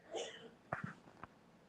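A single person sneezes once at close range in a quiet room, a short sharp burst followed by a faint breathy catch, with brief indistinct voice sounds just before it.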